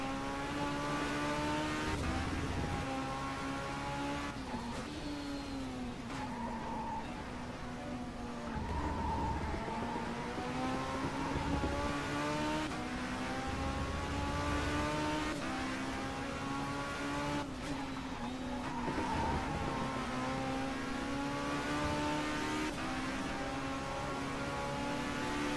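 A race car engine from the Race07 racing video game at the Valencia circuit, droning steadily and rising and falling through gear changes and revs for the whole stretch, with no talk.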